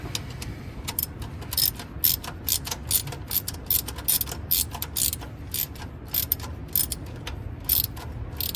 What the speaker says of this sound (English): Can't get my socket off of there now.